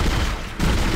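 Loud gunfire in the sci-fi horror game Dead Space, a short burst of dense, booming shots with a brief dip midway before the firing resumes.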